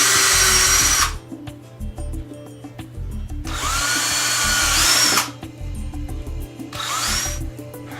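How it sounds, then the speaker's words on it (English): A power drill whirs in three loud bursts, drilling pilot holes into a wooden cabinet side panel, with quieter clicking and bumping between each run. "drill a pilot hole from this side"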